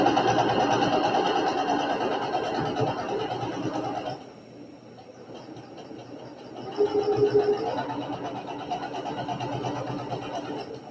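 A sewing machine stitches in rapid, steady bursts during a quilting lesson. The run pauses briefly partway through and then resumes at a moderate level, with no talking.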